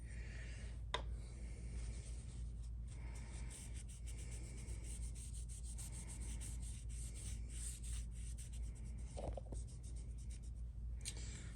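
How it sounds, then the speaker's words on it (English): Steady, close rubbing of abrasive polish on a steel axe blade, a continuous scratchy friction over a low background hum with a few sharper strokes. "Put a little bit of abrasive on here. And that, yeah, the polish is a little bit of an abrasive."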